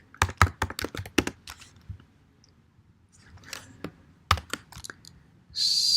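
Computer keyboard typing: crisp keystroke clicks in quick bursts with short pauses between runs, fairly close, followed by a brief hissing burst at the end.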